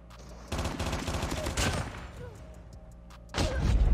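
Gunfire from the mobile shooter Call of Duty Mobile: loud, rapid bursts of automatic fire in two stretches, broken by a quieter pause, with a final burst at the end.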